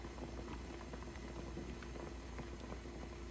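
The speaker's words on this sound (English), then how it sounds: "You see how it's still boiling, and still at 205 degrees." Water bubbles at a steady boil around about 205 degrees in a pot on a stovetop, reheating frozen brisket, a dense crackling patter close by and fairly quiet, with no one speaking.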